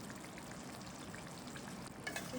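Stuffed potatoes being gently stirred as they fry in ghee and raw mustard oil, a steady close sizzle with soft spoon scrapes running throughout.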